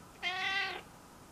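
A cat gives a single clear, close meow, drawn out for about half a second, in a quiet room on a bed. It rings out alone with no talking over it.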